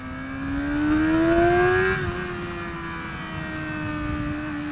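A motorcycle pulls hard in first gear at high RPM, its engine whine climbing in pitch for a couple of seconds, then holding a steady, fairly loud drone, with no speech.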